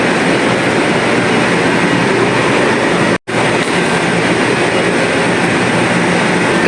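The Haramain train at a station platform gives a steady, loud rumble of rail cars rolling, with one very brief dropout partway through.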